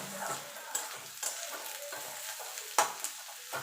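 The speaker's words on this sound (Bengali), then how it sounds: "এবার পেঁয়াজটা একটু লাল লাল করে ভেজে নেব" Onion frying in oil for a Bengali radish greens stir-fry sizzles softly up close, broken by several sharp spatula scrapes and stirs against the pan.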